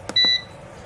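A cheap food dehydrator's control panel gives two short, sharp electronic beeps in quick succession, close and clear, with a quiet room behind.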